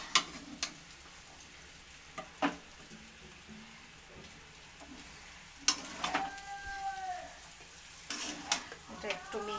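Chicken chow mein being stirred in a hot pan, with a steady sizzle of frying and intermittent scraping and clacking of the utensil against the pan, close by and without talk.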